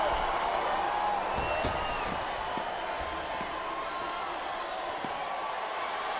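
Video-game arena crowd from a wrestling match in WWE SmackDown! vs. RAW 2007, a steady roaring din of fans cheering throughout, with scattered thuds and bumps from the ring underneath.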